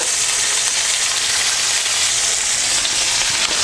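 Hash browns and burgers fry on a hot griddle, giving a close, loud, continuous hiss and crackle of sizzling fat that holds even throughout, with no voices.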